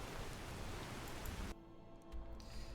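Rain falling in the Skyrim game world: a dense, steady hiss of rain that cuts off abruptly about halfway, leaving a quieter, thinner wash of ambience with faint drops.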